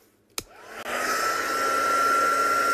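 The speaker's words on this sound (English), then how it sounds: "So I'm just going to give that a blast with a hot air gun." A hot air gun switches on after a brief click and blows a steady, loud, broadband rush with a thin whine, drying freshly coloured paper for a Valentine's craft project; no voices.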